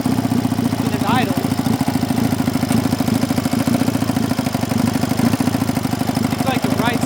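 A Honda Dream motorcycle engine idles at close range, a steady even putter with a low mechanical hum throughout.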